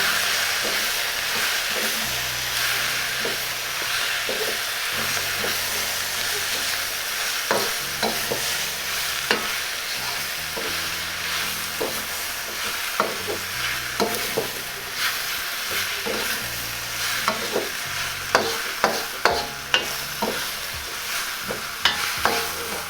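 Shanghai lo mein noodles being stirred and tossed in a hot pan, with steady sizzling under repeated scraping strokes and clinks that grow louder and more frequent toward the end.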